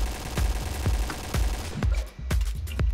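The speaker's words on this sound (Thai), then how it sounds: "นี่นะเดี๋ยวยิงให้ดูแบบว่าแบบไม่ใช้มาโครก่อน" Rapid bursts of AUG machine gun fire from the Point Blank shooter game, loud, close shots in uneven clusters with short gaps, alone with no talk.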